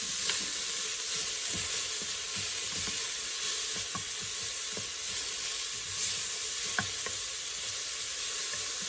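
Onions cook in olive oil in an Instant Pot with a steady, close sizzle and hiss. Scattered soft stirring clicks sit on top of the sizzle, and no one speaks.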